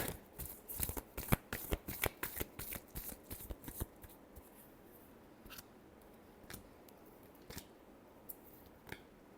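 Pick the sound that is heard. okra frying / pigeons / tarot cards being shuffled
tarot cards being shuffled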